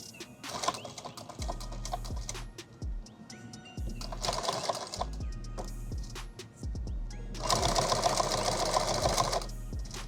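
A sewing machine stitches an eight-magazine war bag in three loud, close bursts of rapid whirring, separated by pauses filled with knocks, clicks and fabric handling.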